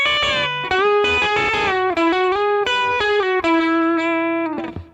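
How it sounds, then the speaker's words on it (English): Overdriven electric guitar plays an extended pedal steel style passage joining two bending licks, with smooth string bends gliding between sustained harmony notes, clear and continuous for about five seconds before fading. "you can combine both of those pedal steel licks to create an even longer extended passage"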